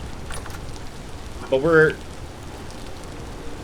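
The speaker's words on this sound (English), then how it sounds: "No, the rain definitely didn't stop." Rain falls steadily in the video game Vintage Story as a soft, even hiss throughout, with a brief spoken voice rising over it midway.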